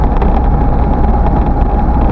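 Vehicle overtaking on the road near a VW 8150 truck: a loud, continuous low engine roar and road rumble, steady throughout with no voices.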